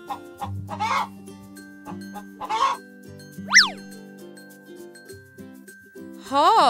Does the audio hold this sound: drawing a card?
no